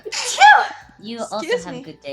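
One sharp, forceful human sneeze erupts loudly at the start, followed by a person speaking briefly afterward.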